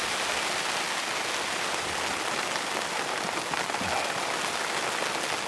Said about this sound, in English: This rain's fully set in now.